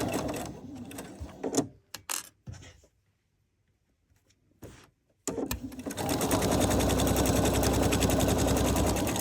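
A sewing machine back stitches along a seam on a home-decor envelope pillow. Short, sharp bursts of stitching are broken by pauses, then a loud, close, continuous run of rapid needle clatter takes over.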